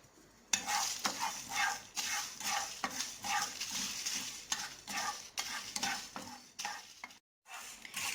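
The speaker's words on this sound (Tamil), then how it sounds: "இப்போ வந்து மல்லியும் வத்தல் அதையும் வந்து வறுத்து எடுத்துக்கணும்" Coriander seeds and dried red chillies dry-roast in a pan for temple-style tamarind rice, stirred in quick repeated scraping strokes with short pauses, close and fairly loud, no talking.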